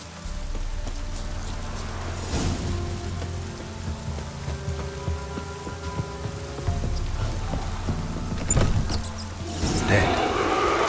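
Steady rain hiss falling across a game world in The Witcher 3: Wild Hunt, a continuous wash of drops with low rumbling undertones and a few louder bursts, heard beneath a quiet background.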